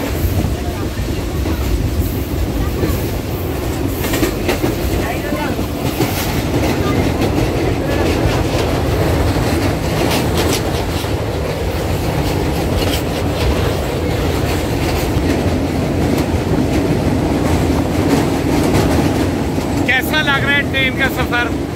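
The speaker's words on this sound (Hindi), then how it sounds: "देखें हमारी ट्रेन आहिस्ता आहिस्ता चलना शुरू हो गई है।" Passenger train slowly pulling out of Gujrat railway station in Pakistan, a continuous rumble of railcars with faint wheel clatter on the tracks, a brief high squeal near the end, and voices talking nearby throughout.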